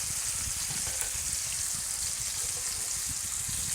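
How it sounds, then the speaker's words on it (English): Onions and bacon frying gently in a pot give a steady, close sizzle with fine crackling and small pops throughout, with no voices. "Continue just gently cooking off beautiful bacon"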